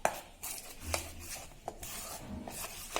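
Hands knead and mix pumpkin bun dough with a little oil, producing soft squelching, rubbing and slapping sounds in irregular strokes, close and fairly quiet, with no talking.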